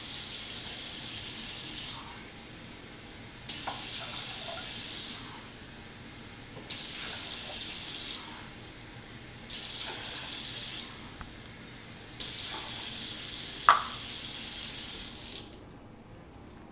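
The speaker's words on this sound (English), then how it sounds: "And now I'll add the 4 cups of water." Tap water runs into a cooking pot being filled for rice on a stovetop, a steady close splashing stream that comes in several bursts as the flow starts and stops, with no talking.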